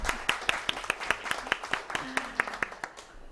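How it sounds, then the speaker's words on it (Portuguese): A small audience claps in a steady, quick rhythm, with individual hand claps standing out close by against a background murmur of voices. "eu peço uma calorosa salva de palmas para quem acha que o totó"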